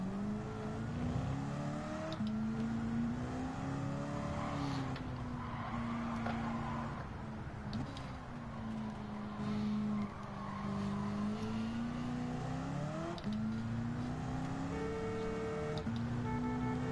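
In Gran Turismo 7, a race car drifts hard with engine tones rising and falling across gear changes and sustained tire squeal through the slides, a loud, continuous game soundtrack with no talking.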